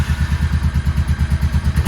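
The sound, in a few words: Honda NTV 650 motorcycle engine starting after 7 years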